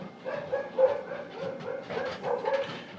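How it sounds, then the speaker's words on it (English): A dog barks repeatedly upstairs in short, muffled yips and whines, somewhat distant, as if from another room. "as you can hear my dog barking upstairs"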